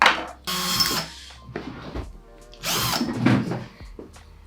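A power drill bores two holes while building DIY intercoms, two loud bursts of whirring drilling separated by a short pause, close up with no talking.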